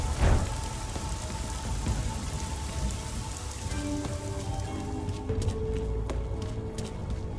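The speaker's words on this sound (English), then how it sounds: "This place is amazing in the rain." Steady, heavy rain pours in Deus Ex: Mankind Divided, a dense continuous hiss with scattered louder drips and faint tonal ambience underneath, and no voices.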